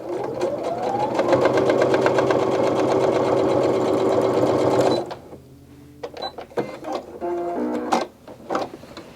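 A sewing machine stitching a quarter-inch elastic pouch on a medical face mask, with a loud steady rapid run for about five seconds, then stopping, followed by quieter handling clicks and rustles.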